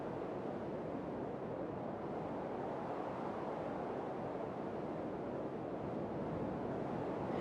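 Wind blows outdoors near the sea as a steady broadband roar, dense and unbroken throughout, faint overall with a buffeting rush.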